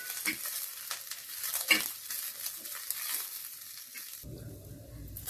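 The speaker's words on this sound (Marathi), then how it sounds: "ह्याला छान असं लालसर होऊस्तर परतायचं." Chicken pieces being stir-fried in a little oil in a pan, a soft continuous sizzle with scraping stirs, ending in a louder hiss as fresh ingredients hit the hot pan.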